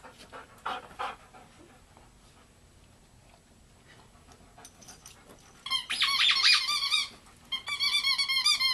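A dog pants softly, then a squeaky toy squeals in rapid bursts near the end, close and fairly loud over quiet surroundings.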